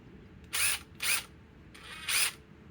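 A DeWalt XR DCF845 impact driver with a right angle adapter and a 5 amp battery fires in three short bursts, the first two close together and the last after a pause, against a quiet room.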